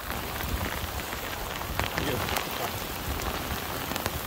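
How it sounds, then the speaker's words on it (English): Steady rain falls outdoors in a dense, even hiss with scattered sharper drops tapping nearby surfaces, continuous throughout and fairly loud. "And we went out for a walk in the rain."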